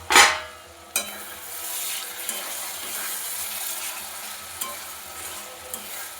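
Mutton fries in a pot with a steady close sizzle, beginning with a sharp burst as the lid is lifted, then broken by a few scrapes and knocks of the stirring spoon.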